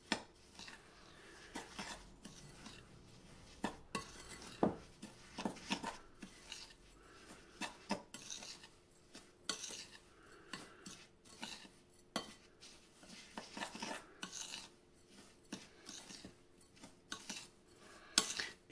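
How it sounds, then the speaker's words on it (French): Spoon or utensil scraping and clinking against a bowl while crushed speculoos biscuit powder is mixed with melted butter, a quiet run of irregular scrapes and light knocks close by. "Et à cette poudre, on va y rajouter notre beurre fondu. On va mélanger tout ça."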